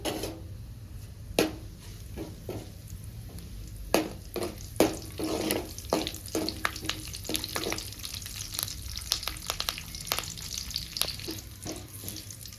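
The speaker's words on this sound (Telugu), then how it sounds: "ఆవాలు కరివేపాకు ఒక రెండు రెమ్మలు వేసుకొని బాగా ఫ్రై చేసుకోవాలి" Mustard seeds and curry leaves fry in hot oil for a tempering, with a constant low sizzle broken by many sharp crackles and pops scattered irregularly throughout, fairly close and without speech.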